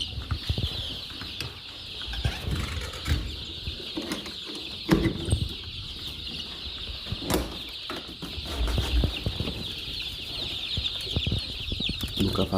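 Adler Silver and Dominant Sussex chicks in a pen, heard as a constant high-pitched chorus of peeping with scattered soft clucks, wing flutters and thumps close by.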